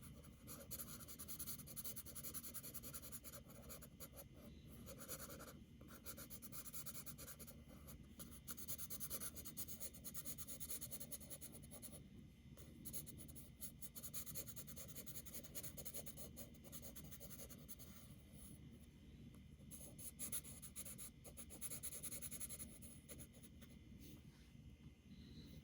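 A medium charcoal pencil lightly shades on paper, producing a soft, continuous scratchy rubbing with small rhythmic strokes, close and quiet, with no talking.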